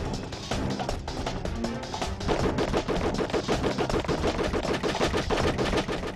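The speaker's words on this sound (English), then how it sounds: "This gun sounds exactly like all the other guns in the game." Rapid, continuous automatic gunfire from a video game gun rattles loudly for several seconds, a sharp burst of rapid shots with no voices.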